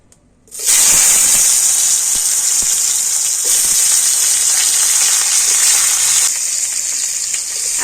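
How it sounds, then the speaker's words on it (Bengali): Salted, turmeric-coated spiny gourd (kakrol) pieces dropped into hot oil, bursting into a loud, close, sustained hissing sizzle that holds steady for several seconds before easing slightly, with no talking. "এবার আমি সেই লবণ হলুদ মিশিয়ে কাঙ্গলটা রেখে দিয়েছিলাম তো সেই কাঙ্গলটা তেলের উপর দিয়ে দেবো"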